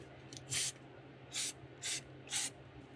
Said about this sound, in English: We're going to just spray the backs of them.